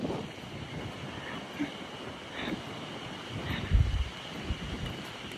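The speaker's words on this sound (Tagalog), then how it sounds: "Lakas ng hangin." Strong wind roars steadily across the microphone in Nasushiobara, Japan, in a rough, gusty rush, with a few heavier low buffets partway through.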